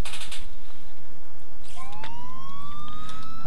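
A police car siren in the video game GTA IV rises and wails steadily over a constant low engine-like rumble, starting partway through and continuing loudly to the end.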